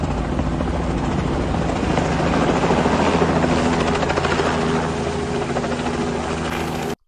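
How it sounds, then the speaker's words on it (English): A helicopter lifting a captured runaway zebra in Rutherford, Tennessee, gives a loud, steady rotor chop and engine drone that holds throughout and cuts off abruptly at the end. "The helicopter's spinning."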